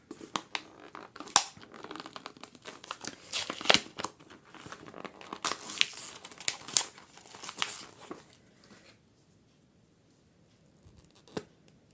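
Crinkly plastic packaging being torn and crumpled open around an ink stamp, close sharp crackles and rustles in irregular bursts, then a quiet pause before one last crinkle, with no talking.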